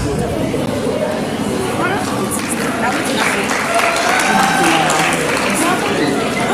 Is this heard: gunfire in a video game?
no